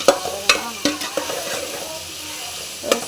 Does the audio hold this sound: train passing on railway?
no